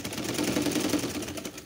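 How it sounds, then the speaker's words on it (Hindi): A sewing machine stitches over patchwork seams, producing a short, rapid mechanical whirring hum at moderate volume. "इन जोड़ों के ऊपर सिलाई करेंगे।"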